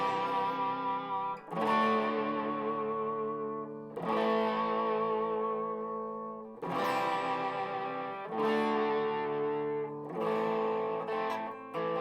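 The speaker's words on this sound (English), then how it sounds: "Got the reverb on as well." Electric guitar chords strummed through a Peavey Rockingham amplifier with reverb on, in several sustained bursts, each ringing out with a wash of reverb and effects tail, no voices.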